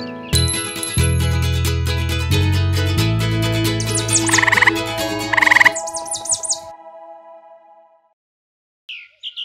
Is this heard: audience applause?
no